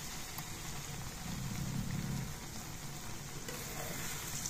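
Spices frying in hot oil in a pan while jujube sweet pickle is prepared, a steady close hiss and crackle throughout with a slightly fuller bubbling patch in the middle.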